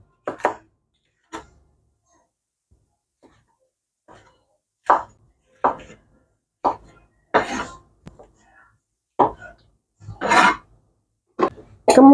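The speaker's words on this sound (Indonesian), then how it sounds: "Kemudian potong daging sapinya ya teman-teman. Kita potong tipis-tipis." Beef is sliced thin on a board for a sweet-and-sour kuloyok dish. A dozen or so separate knife chops and taps land at irregular intervals, crisp and close, with silence between them.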